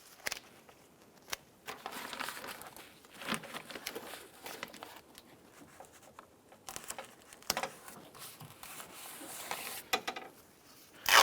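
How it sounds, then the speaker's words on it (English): Tape being pulled and pressed onto the water shield inside a 2001-2005 Honda Civic driver door, heard as soft crinkling, rubbing and scattered sharp crackles and taps up close, without speech. "So at this point here, we're just going to use some tape."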